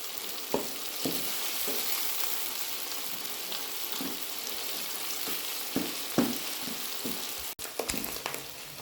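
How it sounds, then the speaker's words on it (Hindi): Minced meat sizzles steadily in a hot pan, a continuous close frying hiss broken by occasional scraping knocks from stirring. "कीमे को हम भून लेंगे थोड़ी देर के लिए"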